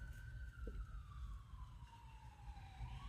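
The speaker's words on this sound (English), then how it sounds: "sirens always make him howl." An emergency vehicle siren wails along a state route, a single sweeping tone slowly falling in pitch, heard at a distance over steady low traffic rumble.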